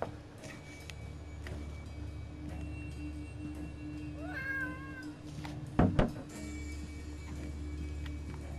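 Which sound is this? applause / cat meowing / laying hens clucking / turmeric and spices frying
cat meowing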